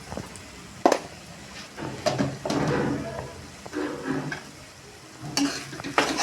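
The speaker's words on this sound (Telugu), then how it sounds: "మొత్తం కలిసేలా తిప్పుకుంటున్నాను." Masala curry being stirred in a pan after turmeric and salt go in, with repeated scraping strokes over a soft sizzle; a voice speaks briefly under it.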